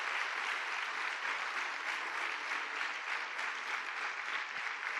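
Church congregation applauding during a sermon, a dense, steady wash of clapping that holds at an even level from start to finish with no voice above it.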